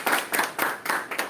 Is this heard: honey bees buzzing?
no